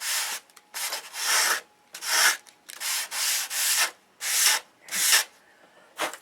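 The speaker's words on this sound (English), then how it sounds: "you can put your sandpaper on this and sand and get a real nice flat" Sandpaper wrapped on a flat block rubs across wood in a series of about nine distinct back-and-forth strokes, each a dry scratchy swish separated by short pauses, close and moderately quiet.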